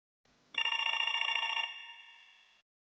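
A telephone rings in one continuous electronic burst that starts abruptly and fades out after about two seconds, with no talking.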